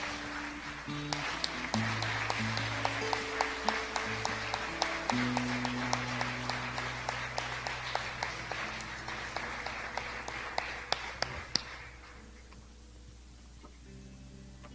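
A church congregation claps in sustained applause over a low sustained organ or keyboard pad, the clapping dense and steady before thinning out and stopping near the end.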